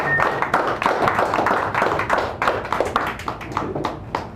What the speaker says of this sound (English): Come give them a nice round of applause.